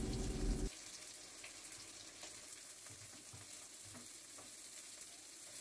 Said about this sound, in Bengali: গরম তেলের মধ্যে দিয়ে দেওয়া হলো লম্বা আর সরু করে কেটে রাখা বেগুন, আদা কুচি, রসুন আর পেঁয়াজ কুচি